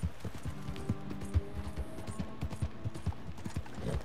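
Horse hooves clip-clop in a steady galloping rhythm in the Western video game Red Dead Redemption 2, with close, even thuds running throughout over faint background game sounds.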